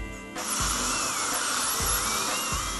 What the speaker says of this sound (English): the sound of the dentist drill fills the air